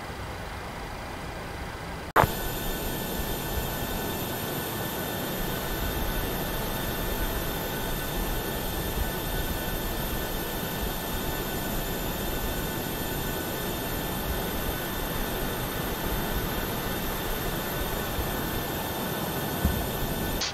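Boeing 737 jet engines in Lufthansa livery spooling up in Microsoft Flight Simulator 2020, a steady broadband roar with sustained whining tones that swells in after a brief quiet start and holds loud and even to the end.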